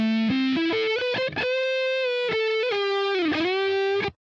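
Electric guitar solo played through the Inktomi plugin by Vulture Culture, a sustained, effected lead line with sliding and bending notes, long held tones and quick runs, ending abruptly with no talking.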